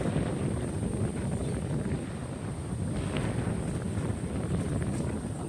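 Strong typhoon wind blowing over a rice field, a steady dense roar with low rumbling gusts buffeting the microphone, loud and continuous with no break.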